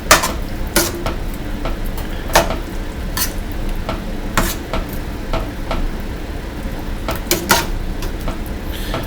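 A spoon stirring a bean soup mixture in a pot, with periodic sharp clinks and knocks against the sides over a low background hiss, close up and unaccompanied by speech.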